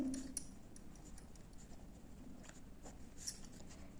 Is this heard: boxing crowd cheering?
no